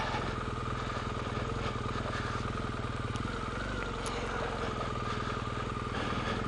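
Motorcycle engine running steadily and pulling away, a loud, continuous, close rumble with a fast regular pulse throughout.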